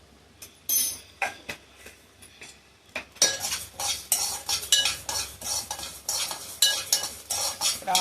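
Two spoonfuls of mustard seeds hit a hot pan for a cucumber chutney. Quiet scattered clicks and metal taps give way to a loud, continuous sizzle broken by rhythmic spoon scrapes and clinks against the vessel.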